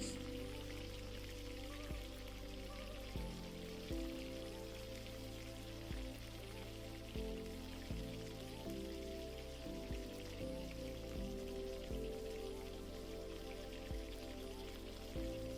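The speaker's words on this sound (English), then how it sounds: "I left this segment unedited so you can see how quickly they fry up." Carnivore steak fingers frying in fat, dusted with beef gelatin powder: a steady, even sizzle and crackle of hot fat runs throughout at moderate loudness, with soft periodic low bumps beneath.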